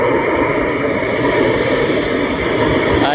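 An LRT Line 1 light rail train hums and rumbles steadily nearby, with a hiss of brakes or air and no voices.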